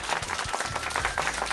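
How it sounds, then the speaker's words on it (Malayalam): An audience at an Onam boat-race themed event claps in a quick, uneven burst of hand claps, fairly close and lively, with no voices over it. "നല്ലൊരു കൈയടി കൊടുത്തേ."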